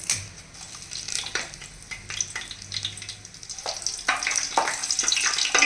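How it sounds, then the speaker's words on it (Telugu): Whole spices such as cardamom, black cardamom, mace and bay leaf crackle and sizzle in hot oil in a pan, with steady frying hiss broken by sharp pops and stirring scrapes, close and moderately loud, with no voices. "ఒక నిమిషం ఫ్రై చేసుకుందాము."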